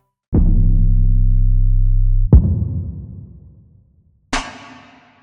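A deep sustained drum boom, then a thudding hit with a long roomy reverb tail that slowly fades, then a bright crisp strike ringing out in the hall.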